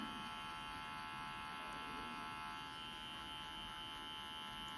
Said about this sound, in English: Using the corner of the clipper and just flicking out